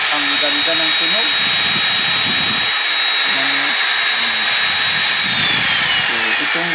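A repaired angle grinder runs steadily with a loud high whine, continuous throughout while someone talks over it.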